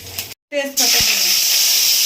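Bay leaves dropped into hot oil in a pan where coconut was just fried burst into a loud, steady sizzle right after a brief stretch of talk and a short pause.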